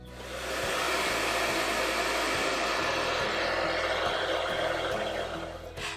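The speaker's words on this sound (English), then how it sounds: "I'm going to be using the dryer now to dry off the fabric paint." Hair dryer blowing over fabric paint on a patchwork quilt appliqué, a steady close whooshing roar with a low motor hum that runs unbroken for several seconds.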